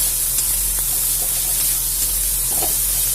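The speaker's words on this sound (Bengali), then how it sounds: "ভালো করে মিক্স করে ভেজে নেব।" Cauliflower frying in a pan gives a steady, close sizzling hiss that runs unbroken through the whole stretch, with a few faint stirring clicks and no talking.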